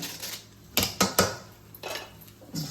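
A spoon mixes roasted coconut pieces and sesame seeds in a bowl. It makes a quick cluster of sharp metal clinks and scrapes, then a pause and a few softer knocks, close by and without speech.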